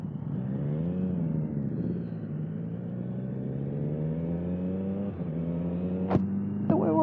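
Triumph Street Triple motorcycle pulling away from a traffic light, engine rising through the gears in steady climbs with brief shift dips, close and prominent, and a few sharp clicks near the end.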